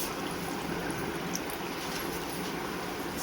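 Clean water poured into a bowl, a steady close trickle and splash running evenly through the short moment with no talk.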